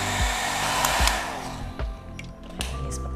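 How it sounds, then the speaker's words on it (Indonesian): A hair dryer blows steadily on a fringe being curled for a flight attendant hairstyle, a loud continuous airy whoosh with a few soft thumps and handling knocks as it moves. "Pastikan poninya di hair dryer sampai matang ya."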